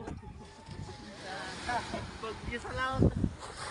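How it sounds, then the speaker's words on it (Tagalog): Strong wind at sea on a small fishing boat, a low steady rumbling buffet on the microphone running throughout, with someone talking over it. "Sa lakas pa naman ang hangin na yan."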